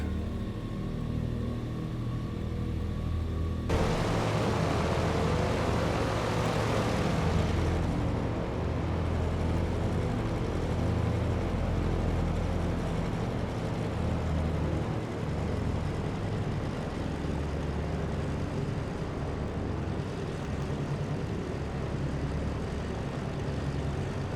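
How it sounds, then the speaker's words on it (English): In Microsoft Flight Simulator, an aircraft engine drones steadily while the plane taxis, a loud continuous broadband roar that swells partway through and then holds for the rest. "we'll taxi out to the active"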